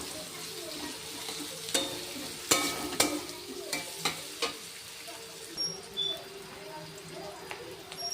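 Potato pieces fry in a pan alongside lightly browned eggplant, a steady soft sizzle broken by several sharp scrapes and clicks of a spatula against the pan, fairly close and moderate in level.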